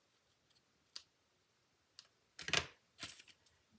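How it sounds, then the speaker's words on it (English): Scissors trim ribbon on a papercraft card, a few soft, faint snips followed by two louder, sharper closing cuts near the end, close up in a quiet room. "So the ribbon, fold it in half, trim it"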